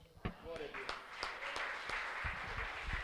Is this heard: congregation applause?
yes